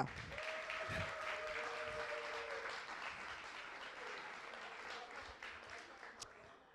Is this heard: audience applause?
yes